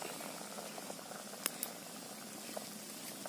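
Sweet potatoes boiling in a pot outdoors on a farm, a soft continuous bubbling simmer with a few faint sharp clicks, quiet and close with no talking.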